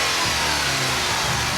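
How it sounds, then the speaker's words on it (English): The supercharged engine of a 2008 Ford Mustang Shelby GT500 revs loud and steady with a dense, continuous roar and a brief change in pitch near the start. "The exhaust note from the back sounds absolutely fantastic."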